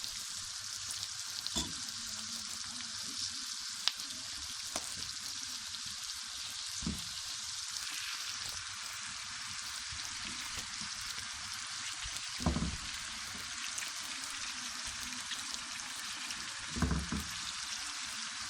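Tomatoes frying in oil for a bean curry, a steady close sizzle with occasional faint clinks and stirring noises, no talk.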